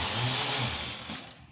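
A knitting machine working on a baby frock gives a brief close mechanical whir and rattle as its carriage runs across, fading slightly at the end, with no talking.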